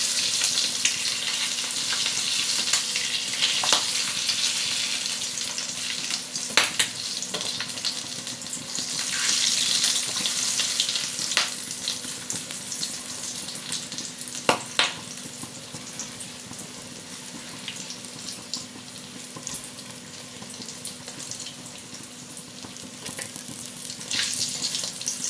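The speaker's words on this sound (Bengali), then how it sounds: "এইভাবে সবগুলোকে আমি ভেজে নিলাম।" Egg and potato pakoras fry in hot oil in a home kitchen, giving a steady crackling sizzle with scattered sharper pops and light clinks of stirring, and no talking.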